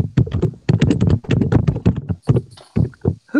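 Rapid keyboard typing picked up close by a microphone, loud uneven clacks and taps in quick bursts with short pauses between them.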